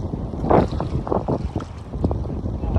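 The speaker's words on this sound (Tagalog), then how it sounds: "lakas na ng ulan. Ulan na, lakas na ng hangin." Strong wind from Hurricane Rafael buffets the microphone in heavy, roaring gusts, with a rushing wash of rain and water mixed underneath.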